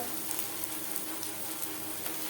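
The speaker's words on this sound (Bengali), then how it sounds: "দু তিন মিনিট পেঁয়াজ ভেজে নেওয়ার পর" Sliced onions fry in oil for a Bengali-style fish tel chorchori, giving an even, steady crackling sizzle with small popping spatters, moderately close and continuous with no voices.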